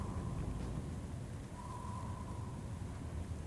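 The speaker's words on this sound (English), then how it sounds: "The rain gradually transforms into a solid wall of water" Heavy rain in the video game Man I Just Wanna Go Home pours as a dense, steady hiss with a low rumble underneath, constant and even throughout, with no voices.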